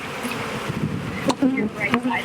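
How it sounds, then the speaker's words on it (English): Angry honey bees buzz steadily at a hive during a beekeeping inspection, a dense close drone filling the whole clip, with people talking briefly over it. "seems like the more bees you have, the madder they get"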